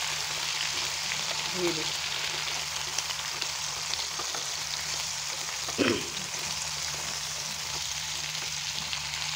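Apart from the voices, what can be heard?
stirring potatoes and brinjal frying in a pan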